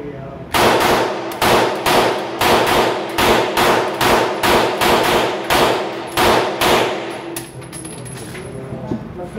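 A Canik SFT Pro pistol is dry fired in rapid succession, giving about a dozen sharp, loud metallic clacks in a fairly even rhythm, close up, then a quieter stretch with faint handling.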